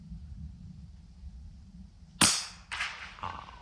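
Sharp rifle crack fired at a gas canister target in woodland, from a .22 long rifle, with a second impact-like burst and a fainter one trailing after, over low steady rumble.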